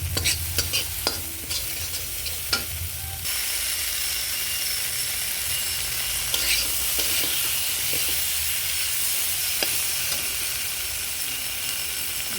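Okra and potatoes tipped into frying spices, setting off a loud, steady sizzle and hiss after a few seconds of stirring clatter, continuing close and unbroken, no voices.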